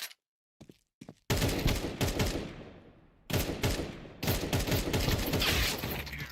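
Gunfire in a video game shooter match, with dense bursts of rapid shots and fusillades filling most of the stretch after a few brief opening pops, broken by a short lull before loud firing resumes.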